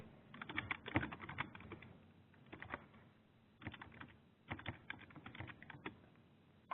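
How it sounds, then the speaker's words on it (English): Login credentials are typed on a computer keyboard in quick irregular bursts of close, soft keystrokes with short pauses between them. No one speaks. "Type in our credentials here."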